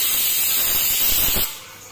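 Loud, steady steam hiss from a pressure cooker holding potatoes, peas and tomatoes, with rice cooking alongside, rushing continuously before abruptly dropping to a quieter residual hiss near the end.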